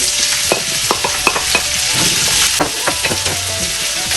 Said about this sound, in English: we're going to saute the garlic in a hot olive oil, and then we have to put our onions